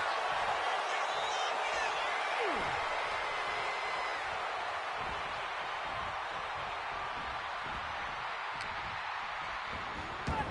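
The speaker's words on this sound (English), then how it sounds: "And Rey is getting the crowd going." A game arena crowd in a WWE 2K25 elimination chamber match roars in a steady, dense wash of cheering that fills the whole stretch, with commentary voices running beneath.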